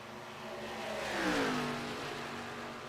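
A race car engine at a Kansas fun race revs and swells past at mid distance, its pitch sliding up and then down over a steady roar of track noise, with no voices.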